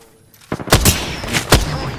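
Gunfire in Apex Legends comes as several loud, close shots in quick succession after a quiet start, each one with a heavy low thump.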